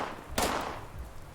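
A grenade goes off in Fallout 76, one sharp broadband blast that rings out and slowly decays, with another burst starting right at the end.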